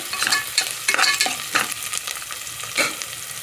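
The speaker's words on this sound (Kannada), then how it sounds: "ಈರುಳ್ಳಿ ಸ್ವಲ್ಪ ಚೆನ್ನಾಗಿ ಫ್ರೈ ಆಗಲಿ" Onions frying in a pan for egg palak rice crackle and hiss loudly and close up, as quick stirring strokes scrape through the sizzle over a few seconds.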